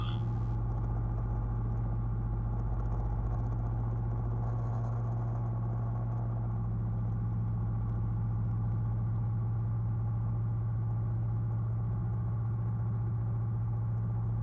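A Challenger II light sport aircraft engine in flight with the throttle pulled back, giving a continuous low, steady droning rumble that fills the whole stretch without a break.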